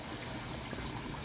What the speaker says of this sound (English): And the water moves fast here in a circular motion